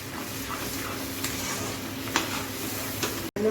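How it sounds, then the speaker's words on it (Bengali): Spiced prawn masala with turmeric, coriander and chilli powder sizzles in a pan as it is sautéed and stirred, a steady frying hiss with occasional scraping accents close by. "এখন এটাকে আমি ভালো করে কষাই নিই।"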